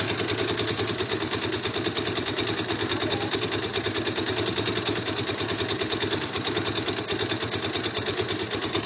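A freshly painted motor idles steadily and loudly nearby, a continuous rough churning rumble with no voices over it.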